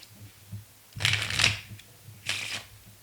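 A standard 52-card playing deck being shuffled by a magician, heard as two brief riffling bursts about a second apart, close and fairly soft, with no talking.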